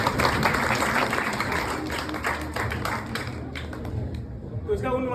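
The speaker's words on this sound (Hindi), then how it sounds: "एक बार वो ताली बजा दीजिए बीच में।" Steady applause from an audience at a Women's Day poetry recitation, a dense wash of clapping that runs the whole time, with voices talking over it.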